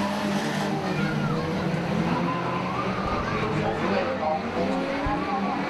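Banger race cars lapping the Arena Essex track, engines droning and revving continuously at moderate distance with occasional tire scrub, and a commentator talking over the action.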